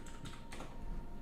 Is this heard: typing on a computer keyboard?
yes